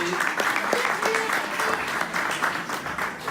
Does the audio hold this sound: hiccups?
no